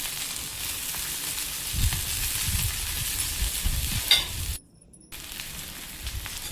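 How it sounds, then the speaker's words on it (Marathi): Corn tikki sizzles in a hot pan, a steady loud hiss of frying with soft stirring scrapes and a brief clink before a sudden short dropout, then the sizzling resumes. "भाजून घेणार आहे."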